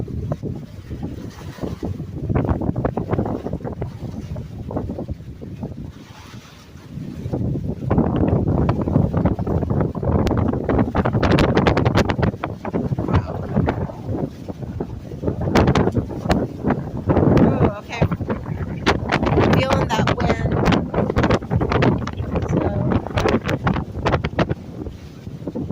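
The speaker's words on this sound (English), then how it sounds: "Look how water is getting stronger. The waves are just getting stronger." Strong wind and surging waves during Hurricane Helene at possible high tide: a loud, continuous roar of gusts buffeting the microphone with churning water beneath, swelling and easing over the whole stretch.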